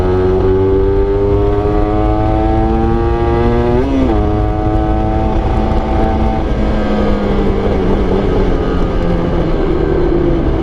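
A loud, steady Honda NSR 150 SP two-stroke motorcycle engine drones throughout, its pitch dipping and rising once midway as the rider shifts, with heavy wind rush underneath.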